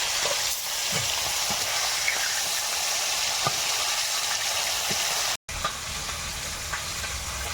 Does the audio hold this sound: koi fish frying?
yes